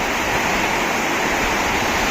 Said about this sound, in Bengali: দেখেন এত পানি, ঝড় হচ্ছে